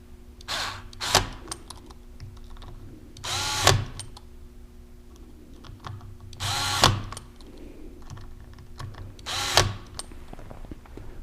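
Screws fitted with washers are driven into a chamber shaft seal assembly with a power driver, in four short whirring bursts spaced a few seconds apart. Quiet handling noises fall between the bursts.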